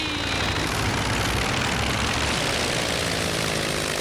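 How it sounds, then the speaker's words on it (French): A cartoon aircraft engine roars steadily and loudly during takeoff, a dense continuous drone with propeller buzz and no talk over it. "Vous êtes prêts pour le décollage?"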